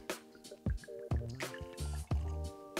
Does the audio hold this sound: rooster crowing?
no